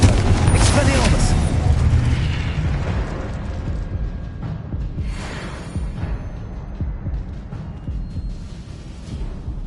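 Spell blasts from the Hogwarts Legacy video game: a loud booming burst is followed by a crackling, rumbling wash of magical impacts that slowly fades, with voices casting spells heard over it.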